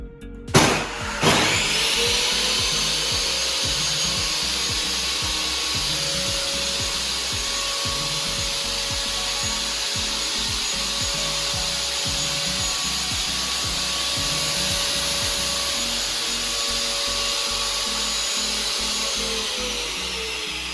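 A Sturmax CSM50250TB stationary circular saw switches on with a sharp click and then runs at a steady, close whine with a clear tonal hum, holding even for about twenty seconds with no voices.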